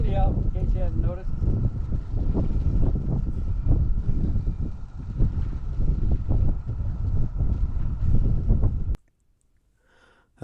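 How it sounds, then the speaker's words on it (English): Strong wind blowing outdoors by the water at night, rumbling and buffeting close to the microphone with loud continuous gusts, ending in a sudden drop to near silence. "Still windy out, in case you haven't noticed."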